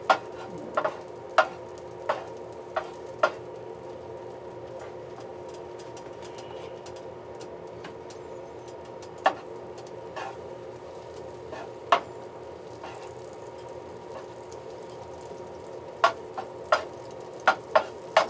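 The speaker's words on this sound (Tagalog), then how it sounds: "Yung bawang at sibuyas mo na yan. Igigisa mo sa butter." Garlic and onion sauté in butter in a pan for creamy beef with corn and green peas, a steady soft sizzle punctuated by sharp clicks and scrapes of a spatula stirring, close and unvoiced.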